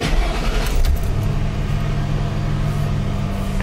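A car engine running with a steady low rumble, a brief surge at the start settling into an even idle.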